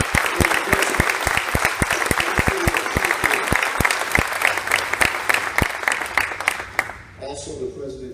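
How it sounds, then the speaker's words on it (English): A large crowd at a civic gathering announcing a new AHL hockey team claps loudly in dense, sustained applause, with cheering voices mixed in, tapering off near the end as it fades into a murmur. "let's give them a big round of applause"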